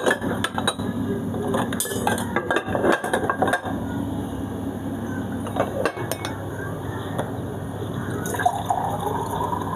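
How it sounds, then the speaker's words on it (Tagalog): Sugar being stirred in a bowl to dissolve it for a banana cake batter: a spoon clinks and scrapes against the bowl in uneven bursts, up close and fairly loud, easing off toward the end. "halo muna natin hanggang sa matunaw yung ating sugar"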